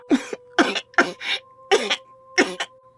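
A person coughs repeatedly in short, harsh bursts, about five or six coughs spaced close together, loud and near, with a steady faint hum behind.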